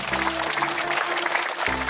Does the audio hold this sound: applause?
yes